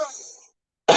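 As a fading tone dies away, there is a short silence, then a single brief, loud, close throat clearing.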